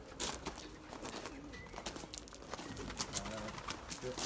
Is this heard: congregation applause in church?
no